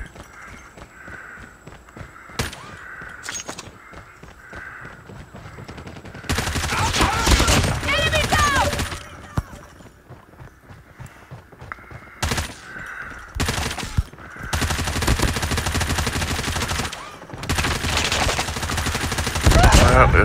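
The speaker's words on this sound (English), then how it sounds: "That is some horrible shooting." Bursts of automatic gunfire in Call of Duty Mobile come in long volleys with short gaps between them, loud and dense, layered over game effects and spoken commentary.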